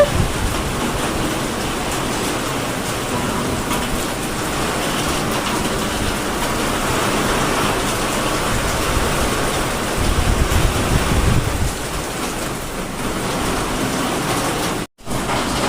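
Steady heavy rain falls outside a house, a dense continuous wash of noise that swells slightly near the end, with no voices over it.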